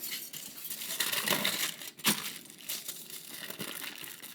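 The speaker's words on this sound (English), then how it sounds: "Another thing that you can do with the tin foil is have the child fold it" Tin foil crinkles and crackles continuously as it is folded by hand, a close, bright, rustling texture with one sharper crunch midway, no voices over it.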